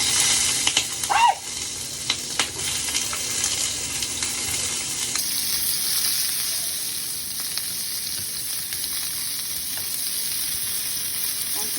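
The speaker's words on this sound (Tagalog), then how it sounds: "Puputok to kasi may tubig ang sausage." Sausage frying in a little oil in a pan for a home breakfast, sizzling steadily throughout with a few sharp pops near the start, close and fairly loud, with no talking.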